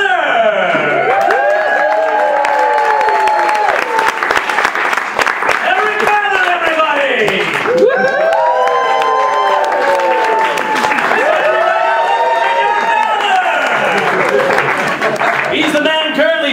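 A theatre audience greets host Eric Mather with loud, sustained applause mixed with cheering and whoops as he takes the stage; the crowd noise stays dense and steady throughout, with a brief swell in the middle.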